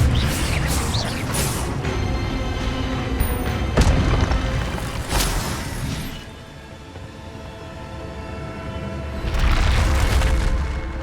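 An Incendio fire spell cast in Hogwarts Legacy, heard as loud booming, crashing bursts with a roaring rush that swells, fades and returns near the end, with no talking.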